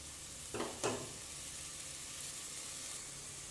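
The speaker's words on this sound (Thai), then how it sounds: "ผัดให้พริกแกงหอมนะคะ" Thai green curry paste stir-fries in coconut cream in a pan, a soft continuous sizzle with two quick scraping stirs near the start, then a steady low hiss.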